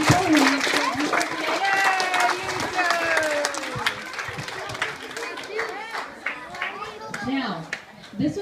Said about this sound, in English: Can we get a round of applause for these tiny,